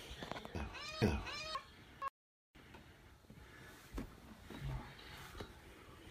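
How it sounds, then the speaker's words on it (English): A cat meows loudly several times in quick succession, then a brief silence followed by quieter room noise with faint scattered sounds. "My cat is being loud."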